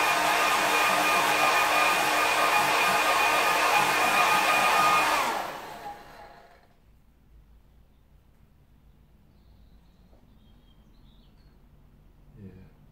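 Hair dryer blowing on a watercolour painting, a loud steady rushing roar for about five seconds that then cuts off, leaving a quiet room with faint rustles.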